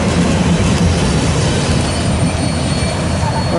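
A very short eastbound freight train on Main 1 at CP Mission on the Harrisburg Line passes close by with a loud, steady rumbling roar that fills the whole moment.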